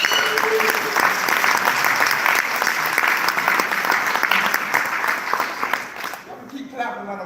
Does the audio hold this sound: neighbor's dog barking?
no